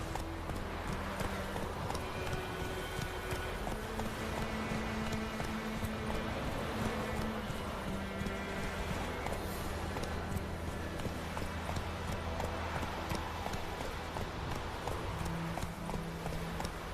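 Roach, Geralt's horse in The Witcher 3, gallops steadily, its rapid rhythmic hoofbeats close and continuous over game ambience, with an occasional faint snort and no talking.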